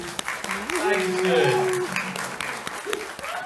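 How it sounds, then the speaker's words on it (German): A live audience at a German talk event gives a short round of applause, moderate clapping under a host's voice, with a brief tonal sound in the middle. "Kleinen Applaus mal für ihn"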